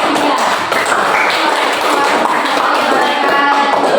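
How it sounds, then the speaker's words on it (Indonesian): Classroom applause for a student group's performance during a teacher certification session, a dense steady patter of clapping hands filling the whole span, loud and close. "tepuk tangan penampilan kelompok 3"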